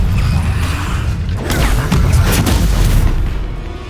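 An Incendio fire spell blasts in Hogwarts Legacy as a loud, booming whoosh of flame with crackling bursts over a rumbling game soundscape, sustained for a few seconds.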